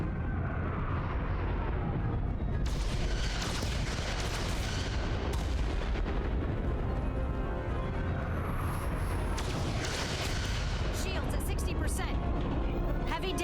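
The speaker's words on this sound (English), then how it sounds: "Fire photon torpedoes!" Photon torpedoes firing in the Star Trek: Resurgence space combat game: a dense, loud roar of booming blasts and bursts that never lets up, with voices talking under the din.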